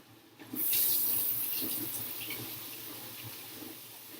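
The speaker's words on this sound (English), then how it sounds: "I'm just going to run and wash my hands." Hands washed under a running kitchen tap: water switches on after a brief pause and streams steadily, splashing close by, with small shifts as hands move under the flow, no talking.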